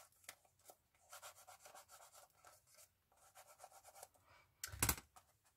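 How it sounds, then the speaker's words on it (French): A paper cutter is rubbed along adhesive tape on a small cardboard gift box, making quiet, close, repeated scraping strokes in short bursts, ending with a louder rustle or knock. "notre coupe papier pour faire adhérer notre bande adhésive."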